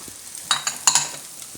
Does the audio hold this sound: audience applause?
no